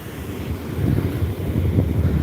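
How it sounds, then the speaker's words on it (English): Ocean waves surging against a shoreline where fossils turn up, a steady broadband wash with rolling swells growing louder partway through, continuous and close with no voices. "Listen to the waves crashing in all night long."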